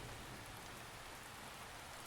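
Torrential rain slams against a heavy metal door with a small window, a dense, steady, loud roar of water with no let-up and no voices.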